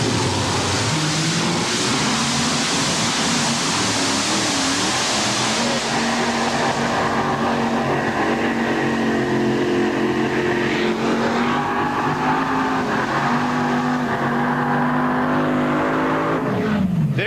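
A 1990 Chevy pulling truck roars down the Pocono truck pull track, its engine holding a loud, sustained, throttle-heavy drone with rising and falling revs over about seventeen seconds, with no voices heard.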